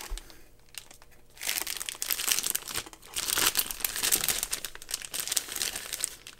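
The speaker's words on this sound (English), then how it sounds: "I'll just do a quick unboxing of the EK water block" Plastic packaging and parts of an EK water block being unboxed, giving loud, dense crinkling and rustling that swells in bursts after a quieter start, close up with no talking.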